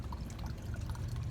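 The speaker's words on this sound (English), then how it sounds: "once their gray water tank is full, they will hook up that garden hose and release that valve" Gray water drains from a Forest River Lexington RV motorhome tank through a garden hose, a steady close pouring and trickling rush of liquid running continuously without pause.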